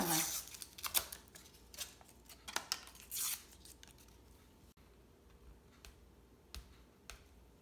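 Crisp snaps and rips of paper being torn in short bursts close by, followed by quieter scattered crinkles and rustles.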